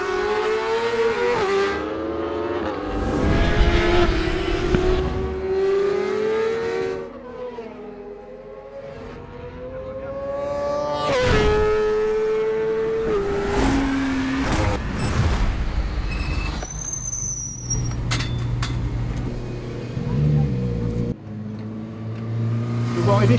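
A racing motorcycle lapping a circuit: engine notes rise and fall in repeated revving sweeps, loud and passing, with gear changes and braking lulls, while people talk over it.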